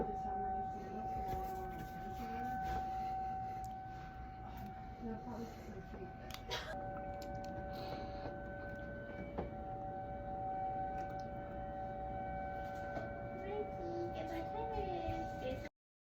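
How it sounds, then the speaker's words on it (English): A tornado siren wails steadily through a massive storm, a long sustained tone holding for the whole stretch at moderate distance, with people talking intermittently beneath it. "The siren is back."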